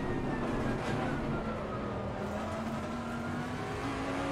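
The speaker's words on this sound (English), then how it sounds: "You can see right now it's downshifting from way earlier." A race car in Assetto Corsa Competizione downshifting, its engine note droning steadily with shifting pitch, loud and continuous, and no voices over it.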